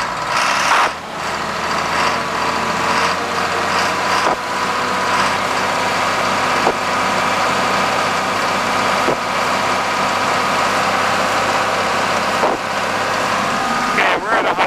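A John Deere 4630 tractor engine, with the PTO engaged, runs loud and steady nearby as the revs climb toward rated speed, a continuous droning hum that holds throughout.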